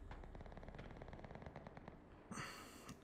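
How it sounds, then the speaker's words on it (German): Rapid, continuous bursts of gunfire crackle throughout, with a louder blast near the end, sounding like synthetic combat in the game Cuisine Royale. "Ich höre überall Schüsse"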